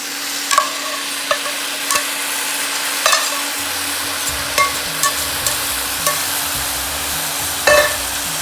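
A shrimp and rice mixture for spicy Maharashtrian khichadi is stirred in a pan, giving a loud continuous sizzle broken by regular spoon scrapes and taps against the metal, with a low rumble joining partway through.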